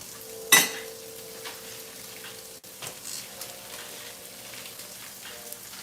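Smoked sausage sizzling in a frying pan, a steady close crackle with a sharp clatter near the start and occasional utensil stirring, no one speaking.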